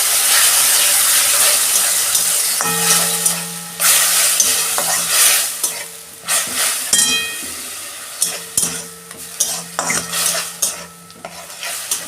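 Spices sizzle in a pan after a splash of water as a spoon stirs and scrapes them, a bright hiss with repeated scraping strokes that grow choppier toward the end, while cooking a ghugni curry.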